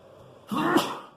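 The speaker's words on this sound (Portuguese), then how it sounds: "Ai, desculpa, eu espirrei." A single sneeze from a lecturer during a materials mechanics class, a sharp, brief burst with a breathy onset, close to the microphone.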